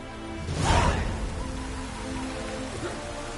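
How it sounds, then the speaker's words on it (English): Rain pours steadily in a fantasy role-playing video game, a broad constant hiss with a brief louder whoosh near the start, no talk over it. "Looked like it would rain, and here it is."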